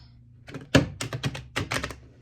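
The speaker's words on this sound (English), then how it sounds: "These are new cards, so it's stiff. It's hard to shuffle." Stiff new tarot cards are riffled and tapped in a quick series of crisp, papery snaps and thunks, close by with no talking.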